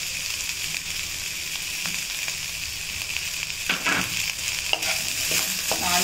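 Cluster beans fry in a pan with salt, giving a steady bright sizzle throughout, while a few scraping stirs come through near the middle and toward the end.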